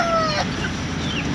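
Chickens cluck close by in a farmyard, short overlapping calls over a steady noisy background with no talk.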